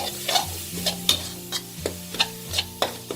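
Minced pork chili paste dry-frying in a pan, rhythmic spatula scrapes and taps against the pan roughly every half second over a low sizzle, close and clear with no voices.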